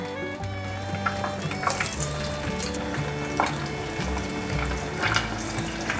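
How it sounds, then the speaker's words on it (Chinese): Eggplant deep-frying in a pot of hot oil makes a continuous bubbling sizzle with scattered pops, heard over steady background music. "热一锅油，油已经热了，把茄子放进来炸。"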